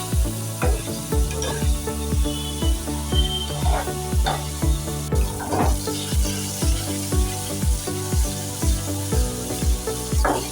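Paneer cubes fry in oil in a pan until golden, giving a loud, steady sizzle with regular stirring scrapes and clinks recurring at a fairly even rhythm; no voices are present.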